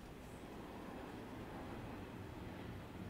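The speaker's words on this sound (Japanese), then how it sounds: "高山線の電車の音聞こえる" A Takayama Line train passes at a distance, giving a steady low rumbling roar that holds evenly throughout under outdoor garden ambience.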